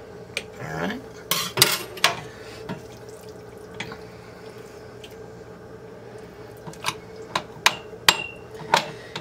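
A spoon clinks and taps against glass canning jars while caramelized onions are scooped out, scattered sharp clicks over a low room hum, close by, with no talk.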